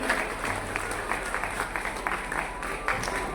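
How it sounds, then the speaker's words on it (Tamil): A crowd at an award ceremony gives sustained, dense applause for a stage honoree. The clapping is steady and moderately loud throughout, with murmuring underneath. "ஒரு பலமான கைத்தட்டலோடு"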